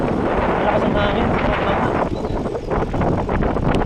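Strong wind buffets a bicycle rider coasting downhill on a mountain road, a dense, steady roar of gusts filling the microphone throughout, with a brief dip in the rush partway through.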